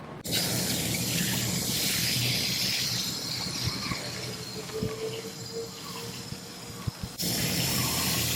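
Water pours from a can or hose onto a potted herb container garden, a continuous close splashing gush that runs for about seven seconds before cutting off.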